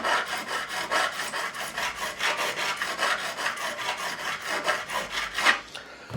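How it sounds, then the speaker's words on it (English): Steady rhythmic rasping of a crowning file stroking back and forth over guitar fret ends on an Edwards E-EX-125D Explorer, removing burrs, close and continuous with no talk. "I'll take my crowning file and just remove any burrs and just smooth it over."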